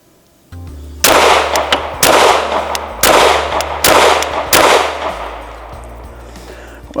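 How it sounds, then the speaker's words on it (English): Five loud, close 9mm pistol shots are fired at a target on a range with an Olight Osight red dot, spaced about a second apart with sharp cracks and brief ringing decay, followed by quiet. "First shot double action."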